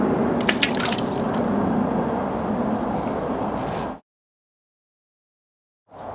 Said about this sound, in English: then we'll just drop it in the old water